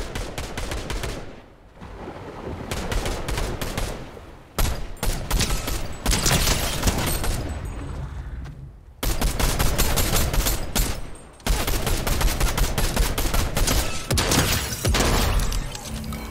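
Bursts of automatic fire from the Hammer Assault Rifle in the Fortnite video game, several loud, close volleys separated by short pauses, with no talking over them.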